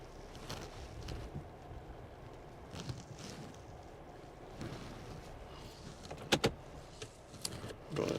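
A 2022 Toyota Tundra on BF Goodrich KO2 tyres easing along solid ice, a low steady rumble of engine and tyres from inside the cab with a few creaks and sharp clicks.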